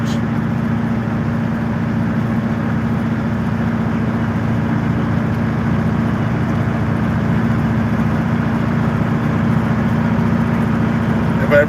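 A John Deere 8850 V8 tractor works steadily packing plowed ground with a toothed roller implement, its engine droning at a constant low hum for the whole stretch, near and unchanging.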